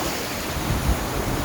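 Sea waves roll onto a beach in a continuous broad wash of surf, with wind buffeting the microphone and a slight swell near the end, no voices.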